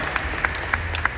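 Brief applause from a panel audience at an investment festival, a short burst of scattered claps in a quick, uneven rhythm.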